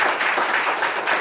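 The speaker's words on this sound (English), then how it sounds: "Let's give him a round of applause" Applause at an outdoor mural unveiling event for Keep Arkansas Beautiful, a crowd clapping steadily and fairly loudly in a continuous wash of hand claps with no voices.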